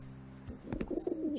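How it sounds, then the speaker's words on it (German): Pigeons in the video game Randal's Monday give soft, low throaty coos in a short burst, fairly quiet and close, with no talking. "Was hat's mit den Tauben auf sich?"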